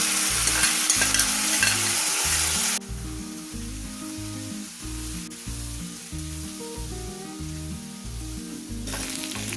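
Boiled potato and onion stir-fry in hot oil, a steady sizzle broken by repeated rhythmic scraping strokes of a spoon against the pan, close and clear with no voices.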